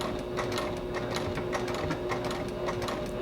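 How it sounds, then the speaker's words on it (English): A sewing machine runs steadily at close range while back-stitching along quilt binding, its needle producing a rapid, continuous mechanical chatter with no pauses. "I'm going to do another couple back stitches"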